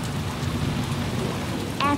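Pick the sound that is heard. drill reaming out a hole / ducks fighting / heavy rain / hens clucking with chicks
heavy rain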